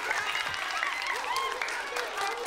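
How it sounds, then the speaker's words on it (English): An elementary school audience applauds at a school show, a steady wash of many hands clapping at moderate loudness, fairly close, with voices calling out over it. "Give them a round of applause."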